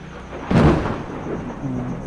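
A sudden low rumble of thunder swells and slowly fades over a soft, steady hiss of rain.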